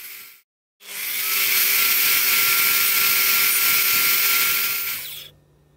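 Power saw blade cutting wood for a tenon: a loud, steady high whine that runs about four seconds, then stops abruptly.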